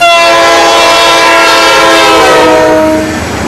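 Loud sound effect of a train horn blaring in long sustained tones over the rumble of a passing train, fading slightly toward the end.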